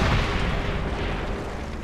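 A heavy blast from a weapon fired at a tank in Call of Duty: World at War, the boom filling the start and fading into a long rumbling tail.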